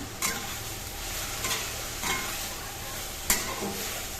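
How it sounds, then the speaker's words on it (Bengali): Chicken with turmeric and chicken masala is stirred in a frying pan. A steady sizzle runs under spaced spatula scrapes, one sharper knock near the end. No voice. "এখন একটু ভালো করে নেড়ে চেড়ে নেব।"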